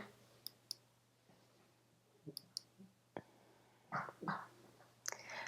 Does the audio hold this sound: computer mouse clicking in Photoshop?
yes